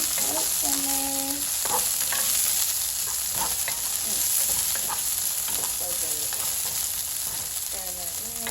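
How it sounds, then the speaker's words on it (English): Chicken breast, spinach and mushrooms sizzle steadily in a pan with a creamy sauce, with intermittent scraping clinks of a utensil stirring throughout and a few faint kitchen tones, no talking. "we just want it to kind of simmer"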